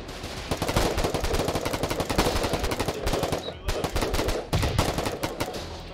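Sustained suppressing gunfire in the war game Foxhole, a dense run of rapid automatic shots from several weapons packed close together, loud and steady throughout with only brief gaps.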